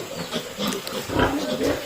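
Pigs for sale, grunting and squealing in a pen among a mix of busy animal noise, with voices talking over them at close range throughout.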